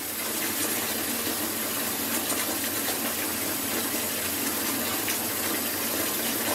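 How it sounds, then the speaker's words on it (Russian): Water gushes steadily from a tap into a filling tub for pet rats, a constant loud rushing stream that never lets up. "Как только вода наполнится"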